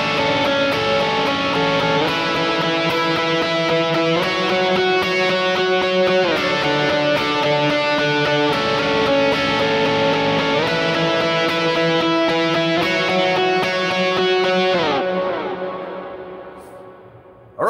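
Electric rhythm guitar for worship music strums chords with accents on higher notes, a loud, steady strumming pattern with echo that rings out and fades near the end.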